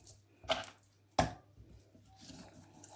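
A knife slices raw chicken into thin pieces while it is broken down for grilling. Two distinct, soft, wet cuts sound close by in a quiet kitchen, with no talking.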